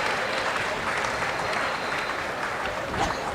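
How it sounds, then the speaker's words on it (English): A crowd at a secondary schools track and field championship in Trinidad breaks into loud, continuous applause, a dense even wash of clapping with a faint crowd murmur underneath. "that's something that deserves a round of applause"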